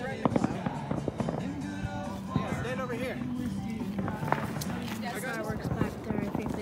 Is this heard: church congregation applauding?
no